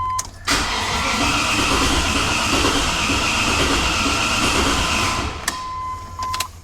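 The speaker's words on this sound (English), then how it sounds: "Crank no start" A Callaway engine swapped into a Discovery cranks without starting, a sustained loud mechanical whirring for about five seconds that stops abruptly, followed by a few clicks.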